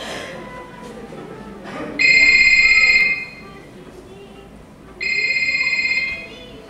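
A telephone rings in a stage play, two loud electronic trilling bursts about a second long each, separated by a pause, over low room noise.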